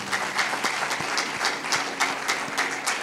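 A congregation claps loudly and rhythmically in bursts during a sermon led by Sant Sunder Lal Ji, the sharp hand claps repeating steadily throughout.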